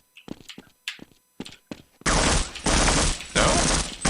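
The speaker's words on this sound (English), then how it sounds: "Then he's gonna fire his grenade launcher." Video game gunfire from an enemy's weapons: a few sharp, separate shots, then a loud, dense, sustained burst of firing that goes on with brief dips until the end.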